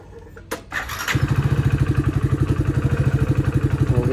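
A motorcycle that has been parked in the sun starts after a brief click and sputter, then settles into a loud, close, steady rhythmic idle thump with no talking.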